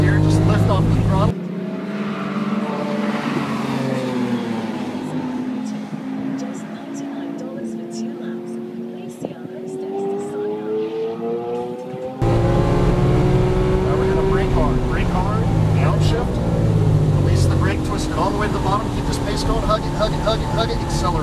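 A Lamborghini Aventador engine on a race track in Las Vegas, loud and close, its pitch rising and falling through repeated accelerations and gear shifts, with a person talking throughout.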